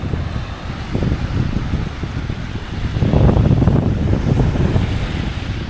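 A steady sea breeze buffets the microphone on a Maui beach, mixed with the continuous wash of surf, loud and close, swelling slightly partway through.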